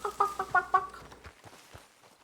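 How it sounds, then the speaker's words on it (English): Chickens clucking in Red Dead Redemption 2, a quick run of loud rhythmic clucks close by, tapering into softer scattered clucks as it fades out. "I also hear chickens somewhere."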